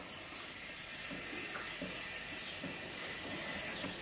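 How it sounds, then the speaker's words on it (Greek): Tap water runs steadily into animal intestines as they are washed in a kitchen, giving a continuous hissing gush at low level with no voices. "Γεμίζουμε με μια ποσότητα νερό"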